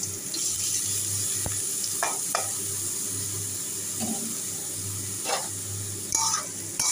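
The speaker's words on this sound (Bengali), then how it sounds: "সাদা তেল ছিল কড়াইতে, কালো জিরা কাঁচা লঙ্কা ফোড়ন দিয়েছি, এবার আলু করলা দিয়ে দিচ্ছি।" Potato and bitter gourd pieces frying in white oil in a wok tempered with black cumin and green chilli, a steady low sizzle with a few stirring clatters, fairly quiet and without talk.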